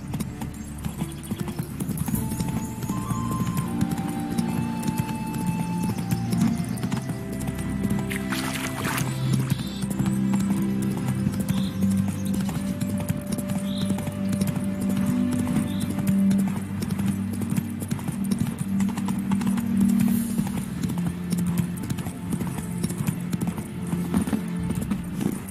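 Horse hooves clip-clop in a steady galloping rhythm in a video game, close and clear over soft game music tones, with no talking.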